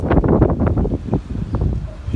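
Gusts of wind buffet a microphone outdoors on a sunny day, loud low thumping rumbles that come in irregular bursts and ease toward the end, with no talking.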